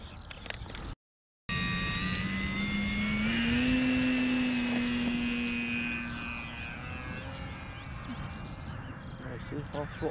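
Durafly Gloster Gladiator RC model biplane, repainted, with its electric motor on a four-cell battery whining steadily at about half throttle, the tone rising then easing, close and loud under outdoor wind noise.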